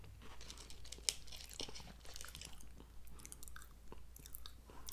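Milano pumpkin spice cookies chewed close up, with soft repeated crunching and mouth sounds, faint and intimate, plus a light crinkle of packaging.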